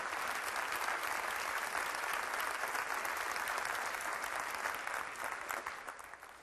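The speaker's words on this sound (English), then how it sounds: "give a rousing round of applause for Diane" Audience applause at a not-for-profit workshop, a dense steady round of clapping from a large crowd that holds loud and even before tapering slightly at the end, with no talk over it.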